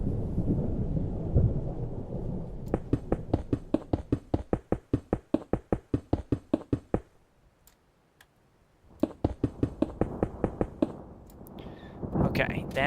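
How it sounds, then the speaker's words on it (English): A thunderstorm rumbles low at the start and end of a Minecraft game scene, while loud, rapid, evenly spaced clicks run through the middle in two long bursts. "Sounds like another storm coming."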